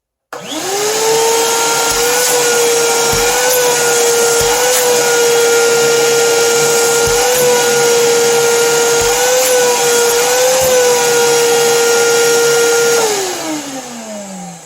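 A Harbor Freight Bauer 6-gallon shop vacuum starts up and runs loudly with a steady high whine for about twelve seconds, then winds down, with no talking.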